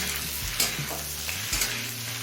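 Sliced tomatoes, two medium ones cut thin, fry in a pan for a street-style ghugni, giving a steady close sizzle with a couple of brief stirring scrapes and no voices.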